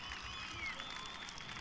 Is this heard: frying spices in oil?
no